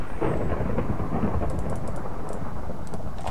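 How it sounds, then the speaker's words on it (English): A steady roar of heavy rain and rumbling thunder from a storm in a block-building game, loud and continuous throughout with faint ticking clicks on top and no voices. "There's a nasty storm going on."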